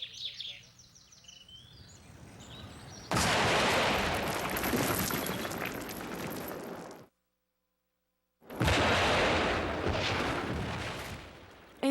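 A Civil War-era cannon fires a canister round at targets outdoors, a loud broadband blast that rolls on for several seconds, breaks off into sudden silence, then returns in a second roaring burst, with faint chirps before the first blast.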